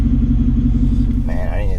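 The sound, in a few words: Hennessey Venom 775 pickup engine and exhaust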